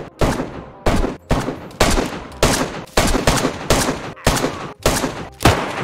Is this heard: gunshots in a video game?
yes